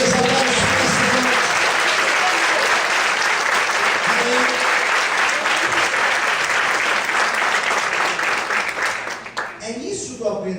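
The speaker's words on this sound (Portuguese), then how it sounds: "Todos podem aplaudir e exaltar o Senhor." A church congregation applauds in loud, sustained, dense clapping filling the room, fading near the end as a voice resumes speaking.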